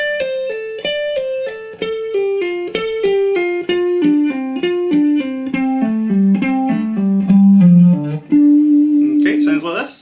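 Electric guitar plays a fast descending pentatonic tapping lick using only the left hand, crisp distinct notes stepping downward in even rhythm before a sustained note and a scrape at the end.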